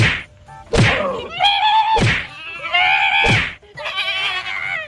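Goats bleat loudly several times in a row, sharp wavering cries separated by short gaps, close to the listener.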